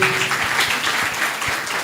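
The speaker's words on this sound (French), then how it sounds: "Ça s'applaudit, s'il vous plaît." A studio audience applauds during a talk show on NGO financing, a brief burst of dense clapping heard alone.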